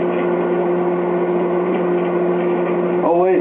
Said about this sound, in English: Never did 5 in the microwave before, so you gotta turn her on high.